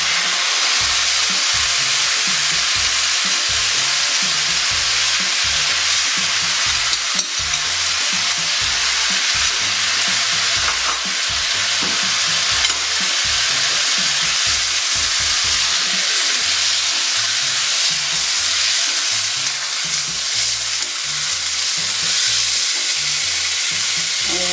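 Beef chow fun noodles sizzle loudly in a hot pan right after the sauce goes in. A dense, continuous frying hiss carries rhythmic stirring scrapes and clatter, close up, with no talking.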